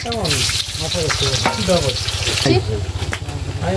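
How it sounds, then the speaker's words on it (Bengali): Dried chillies, bay leaf and onion frying in oil for a mutton curry, giving a bright sizzle with a spoken voice running over it nearby. "শুকনো লঙ্কাগুলো তেলে দিয়ে দেবো, তেজপাতা, পেঁয়াজ"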